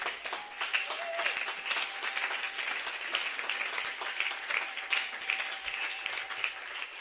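A church congregation applauds during a Sunday service, a steady, dense wash of many hands clapping together at moderate distance, sustained evenly without a break.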